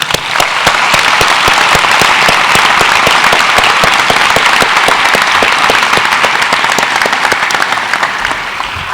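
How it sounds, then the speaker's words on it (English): An audience applauds at a medical school white coat ceremony: a dense, loud burst of clapping that stays full and even for the whole stretch before easing slightly at the end. "I'd like to once again give a round of applause for Dr. Cohen."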